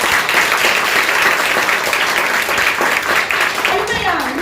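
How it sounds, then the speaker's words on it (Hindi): Loud, sustained applause from a crowd at a selection celebration, steady clapping throughout with voices cheering over it near the end. "एक बार जोरदार तालियां"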